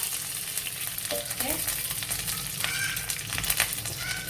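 Curry leaves crackle and sizzle in hot oil in a pan while cooking Kottayam-style beef ulathu, a close, steady frying hiss with sharp pops and a few stirring scrapes.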